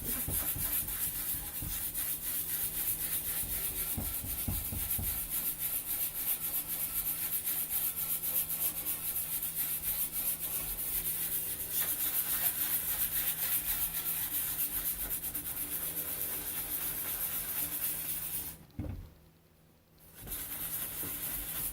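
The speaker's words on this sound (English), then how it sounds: "So I'm going to do quick sanding on it." Hand sanding on a wooden bedroom furniture set's chewed edges: steady, rapid scratchy rubbing strokes continue close by, with a brief pause near the end before resuming.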